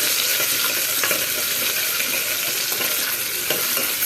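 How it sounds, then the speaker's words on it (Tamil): Food frying in a pan until it turns brownish, a steady bright sizzle running unbroken throughout with occasional faint stirring clicks, close and moderately loud, no voices. "இது நல்லா வந்து ஃப்ரை பண்ணி விடுங்க, கொஞ்சம் ஒரு ப்ரௌனிஷ் கலர் வர வரைக்கும்."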